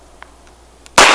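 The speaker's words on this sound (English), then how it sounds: "Got to put a marking shot on the target" Single handgun shot fired at a target on a range, a sharp loud crack near the end after a few faint clicks and handling sounds.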